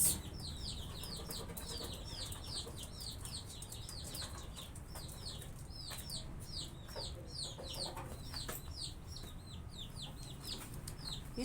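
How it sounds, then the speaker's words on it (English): Chickens and small chicks on a farm, the chicks peeping in quick, bright repeated cheeps over a low, steady background rumble; the cheeping is constant and fairly near, with no talk. "And these are the chicks. Small chicks here, separated from"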